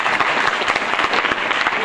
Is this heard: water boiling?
no